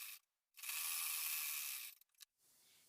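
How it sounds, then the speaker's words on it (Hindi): A sewing machine stitches the belt of a blouse in one close, continuous whirring run lasting over a second. A few short mechanical clicks follow, and no one speaks. "बस यहाँ पर हम सिलाई लगा लेंगे पूरे में।"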